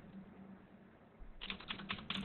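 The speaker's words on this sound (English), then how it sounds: "I'm sorry if you can hear my typing." Rapid clicks of typing on a computer keyboard, quiet and close, start partway through after a low background hum and continue as an irregular patter of keystrokes.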